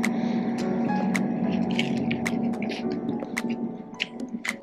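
Chewing on a bite of beef shawarma wrapped in toasted pita, with soft wet mastication and occasional crisp crunches, close up over a steady busy restaurant hum.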